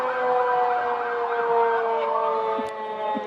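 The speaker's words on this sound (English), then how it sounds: "the people making all the noise are the Norwood Fire Department under the direction of Chief Tom McCabe." Fire engine sirens from the Norwood Fire Department wail loudly at the Norwood Day Parade, several overlapping rising-and-falling tones sounding together, near and sustained, with a brief horn-like blip toward the end and no voices.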